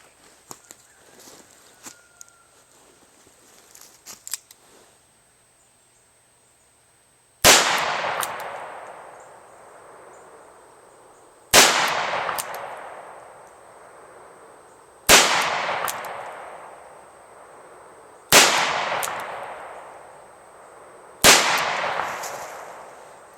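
Five sharp gunshots from an H&R 632 pull-pin revolver fired outdoors, evenly spaced about three to four seconds apart, each loud with a ringing decay, following a stretch of faint handling noise.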